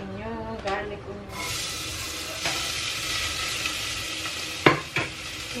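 Eggplant, garlic and onion sizzle in a pan at moderate volume, with occasional stirring scrapes and clinks; someone speaks over the cooking at times.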